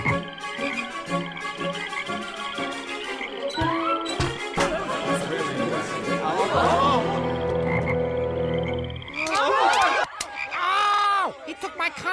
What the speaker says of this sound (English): The frogs follow, and Hooper's got a plague he can't handle.